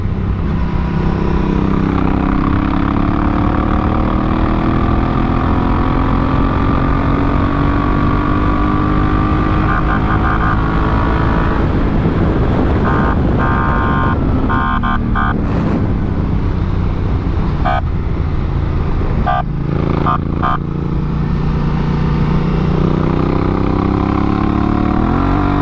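Steady, loud engine drone of a Honda Africa Twin CRF1000L police motorcycle with DCT being ridden on a track, engine pitch rising and falling continuously, close and without talk.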